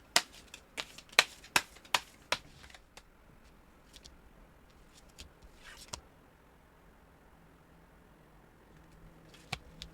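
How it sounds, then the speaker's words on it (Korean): Tarot cards are shuffled and drawn, starting with a quick run of crisp card snaps and slaps, then thinning to a few sparse taps over a quiet room background. "좀 디테일하게 관계성의 카드를 좀 뽑아보도록 하겠습니다."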